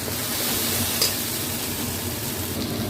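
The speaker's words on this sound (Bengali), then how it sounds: "দিয়ে আমি আবার একটু কষে নেব" Fish curry with salt and green chili being sautéed in a pan, a steady close sizzle with faint stirring scrapes and one brief clink, no voices.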